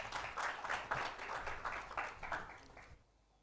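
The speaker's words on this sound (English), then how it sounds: "may I have a round of applause, please?" Audience members at an education conference panel session clap in a soft, moderately distant round of applause that fades out before the end.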